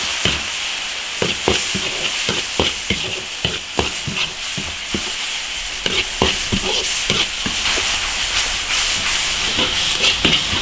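Chopped chili peppers stir-fried in a hot iron wok, a continuous loud sizzle and hiss with repeated sharp scraping strokes of the spatula at an irregular rhythm, close up and with no talking.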